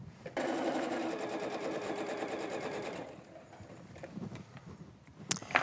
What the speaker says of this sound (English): sew here where those half square triangles are, so I can start it there and see where that 1/4 inch seam is